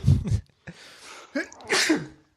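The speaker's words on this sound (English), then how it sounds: "Oh, I'm going to sneeze." A close-up sneeze with a sharp, noisy burst, preceded by short breathy catches and sniffs, in an otherwise quiet room.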